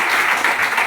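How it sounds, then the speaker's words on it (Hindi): An audience at a business success talk in Kanpur breaks into loud, dense applause, a continuous wash of many hands clapping together up close. "उनके लिए भी ताली बजाओ"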